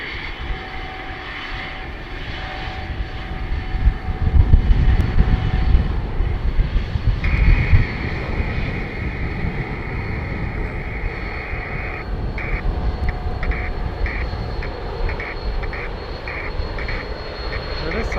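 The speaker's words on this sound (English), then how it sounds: "There is Summit Air. I think it's heading for departure." Summit Air plane taxiing for departure at Edmonton International, a steady loud engine drone with a high whine that rises and then pulses, heard from nearby without talk over it.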